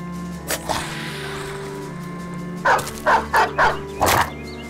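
Dogs in the tactical game Battle Brothers, a run of four or five short, sharp barks near the end over a steady musical drone, close and fairly loud, with no talk.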